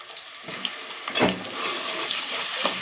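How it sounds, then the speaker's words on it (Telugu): Ginger and garlic fry in a pan for a brinjal potato curry, giving a steady broadband sizzle with a few brief stirring scrapes, fairly close and with no talking. "మంచిగా వేగాలి. అల్లం ఎల్లిగడ్డ"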